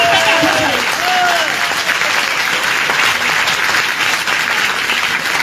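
Steady, loud audience clapping at an RCM gathering, dense and continuous from start to finish, with a brief whistle-like tone near the start.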